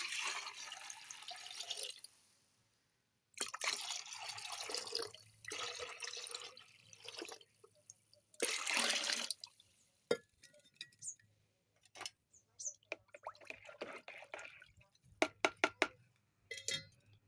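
Water splashes and trickles into a bucket in bursts, with drips and small clinks between pours and quiet pauses.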